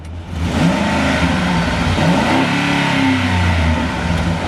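2005 Honda CR-V engine with an aftermarket intake revving up and down, loud and close with rising and falling pitch over a few seconds.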